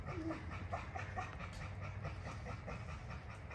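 At a kennel gate, the dog Nyla gives soft whines, short yips and panting amid constant background kennel noise, the sounds fairly faint and scattered across several seconds.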